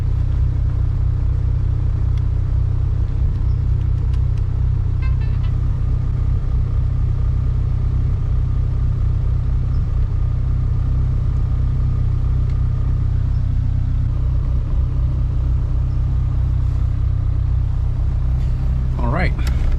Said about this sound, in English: Very, very low idle because no idle air control valve.